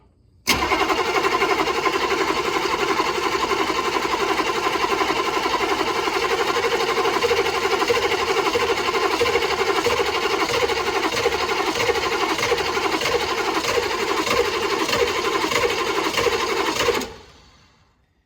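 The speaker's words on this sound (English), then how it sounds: "I'm giving that poor starter a workout, that's for sure." The starter of an M998 Humvee diesel cranks continuously for about sixteen seconds, a loud, steady, rapid whirring chug that does not catch, then cuts off abruptly into silence.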